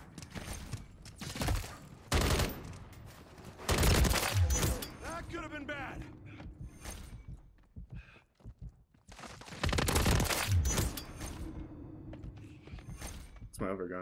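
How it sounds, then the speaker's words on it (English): Shotgun blasts in a Modern Warfare 3 one-on-one match, a few loud sharp bursts spaced several seconds apart over a steady game background, with a player talking between shots. "Well, this is a shotgun."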